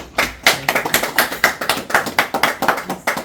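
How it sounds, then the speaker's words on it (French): A group applauding at a reception for elders, producing brisk, fairly even rhythmic hand claps close by that continue steadily for a few seconds. "On applaudit. On applaudit."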